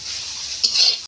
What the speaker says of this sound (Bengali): ভেন্ডি ভাজা হয়ে গেছে